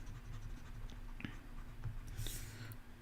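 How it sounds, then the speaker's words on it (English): Chalk or marker scratching across a board in short strokes during a lesson on evaluating piecewise functions, faint over a steady low hum, with a brief squeak near the end. "write f of x here"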